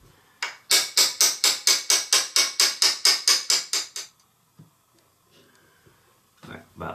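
A steel mortise cutter is driven into wood with about fourteen rapid, evenly spaced hammer blows up close, then brief quiet with a few faint knocks and rustles.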